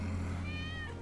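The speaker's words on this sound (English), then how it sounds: "That's Wedge's cat." A single short cat meow in the Final Fantasy VII Remake video game, clear and close with a rising then falling pitch, over a low steady game ambience.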